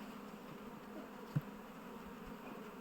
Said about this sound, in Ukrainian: О, на заставні скільки бджоли.